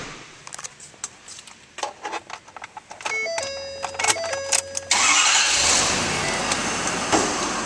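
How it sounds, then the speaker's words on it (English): Interior clicks and door-ajar chimes lead into a 2011 Ford F-350 Super Duty King Ranch with the 6.7L diesel cranking and catching, then settling into a steady, loud diesel idle. "Now we'll start up this truck."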